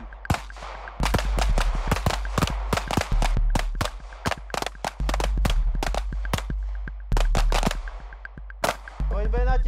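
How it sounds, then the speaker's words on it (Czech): Rifle gunfire on a military shooting range, a rapid string of loud, sharp cracks fired in bursts by a squad, with many shots closely spaced and echoing over continuous low rumble. "Směno, na levý terč, dole, pětí, ranama pálit."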